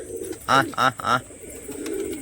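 Pigeons coo three times in quick succession, clear and close, during feeding; the birds include Rajshahi and crested hens in a loft during rain. Soft background noise follows.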